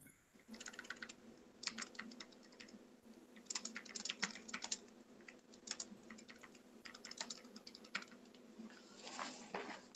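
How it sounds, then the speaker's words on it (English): Rapid, uneven bursts of keystrokes on a computer keyboard, close and moderately loud, with short pauses between runs of typing over a steady low background hum; no one speaks. "I was typing."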